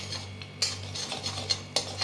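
A utensil scraping and clinking in a pan of jaggery and ghee as it is stirred, with several quick metallic taps over a low hum.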